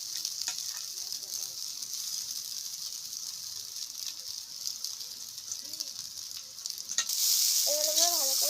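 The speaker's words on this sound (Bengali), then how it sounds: "এবার আমরা ভালো করে নেড়ে দেবো।" Egg chow mein noodles frying and being stirred in a pan in a village-style Bengali kitchen, a steady close sizzle with scraping strokes, a voice speaking briefly near the end.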